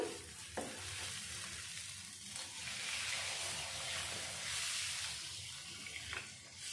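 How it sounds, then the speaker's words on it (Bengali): Water poured into a sizzling, fried spice paste for Bengali koi fish curry (kalia) brings a steady hissing crackle with the faint wash of liquid and stirring. It runs continuously and fairly loud, with no voices. "মশলাটা কষানো হয়ে গিয়েছে, এখন আমি দিয়ে দেব জল"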